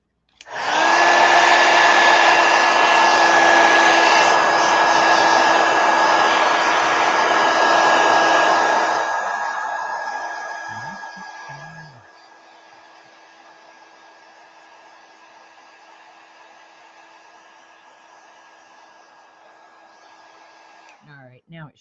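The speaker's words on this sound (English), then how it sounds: "Let me hit it with a heat gun just real quick." Heat gun blowing over fresh watercolor paint on paper: a loud, steady whoosh with a high whine that drops to a quieter hum after about ten seconds, running continuously throughout.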